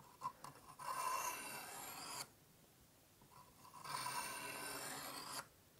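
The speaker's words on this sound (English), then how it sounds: "Then move the knife down the cutting edge like so." A kitchen knife drawn along the stone of a Smith's bench-style sharpener with an angle guide: two long gritty scraping strokes, each about a second and a half, separated by a quiet pause, close and moderately loud.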